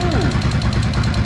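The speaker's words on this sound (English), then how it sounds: "now I am getting a tapping noise. Listen to that." A Honda XR650L motorcycle engine runs close and loud, with a rapid, steady tapping pulsing through its idle.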